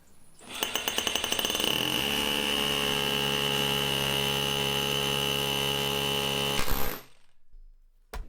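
A hammer drill bores into brick with a loud, rattling roar, starting in quick bursts, then running continuously for several seconds before stopping.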